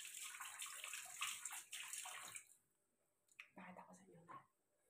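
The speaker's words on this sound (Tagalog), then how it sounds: "Maghugas muna ako ng kamay." Hands washed under running water before cooking, a close, hissing stream that runs for a couple of seconds, stops briefly, then returns in a shorter burst before falling silent.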